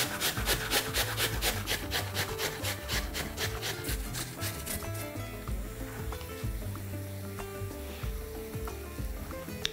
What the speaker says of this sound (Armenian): Խնձորը մեծ անցքերով եմ քերում